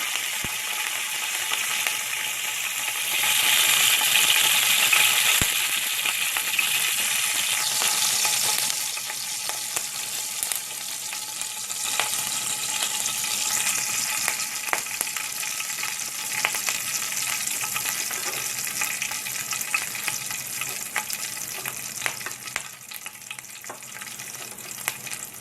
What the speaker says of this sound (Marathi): त्याच्यानंतर मी मोहरी जिरं ऍड करते, आणि मोहरी ऍड करणार आहे